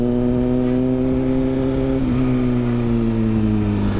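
Suzuki GSX-R 1000 sport motorcycle ridden at night, its engine droning steadily and loud throughout with a pitch shift midway as it changes speed, wind rushing over it, no talking.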